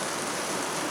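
Steady rain falling outdoors, an even continuous hiss with no breaks and no voices, fairly loud for its one second.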